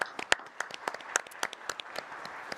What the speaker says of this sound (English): Give a round of applause, everybody